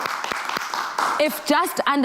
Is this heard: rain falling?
no